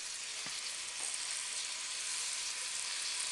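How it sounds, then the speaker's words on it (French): Spices, meat and onion browning in a pan for a Flemish carbonade, giving a steady, even sizzle close by with a couple of faint utensil taps near the start and no talking. "une fois qu'on a fait bien revenir les épices, la viande et l'oignon"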